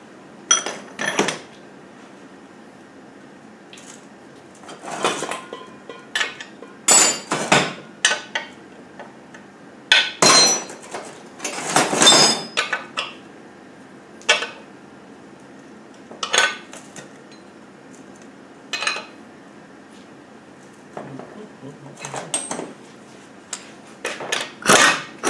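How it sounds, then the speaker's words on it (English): Metal tools clinking against a gearbox during a strip-down as corner bolts are removed, with repeated sharp clinks and rattles in irregular bursts, close and fairly loud, no talking. "we need to take these bolts off here, 4 bolts in the corners"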